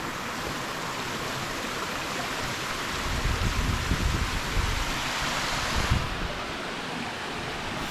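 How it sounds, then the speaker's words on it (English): A waterfall and stream pour into an outdoor pool in the Lakes, a steady close rush of water that swells louder midway, with no voices. "I think there's another waterfall. It's down here too."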